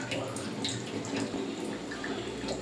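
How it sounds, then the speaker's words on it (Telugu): Soaked lentils being rinsed with water in a kitchen, a steady wash of splashing, trickling water with faint drips, close by and without talk. "పప్పు అయితే వాష్ చేశాను, వాటర్ అంతా పక్కకు తీసేసాను."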